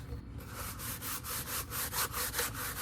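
A craft piece for a homemade ring toss game is rolled and rubbed against wood in steady repeated back-and-forth strokes, close and fairly loud, with no talking.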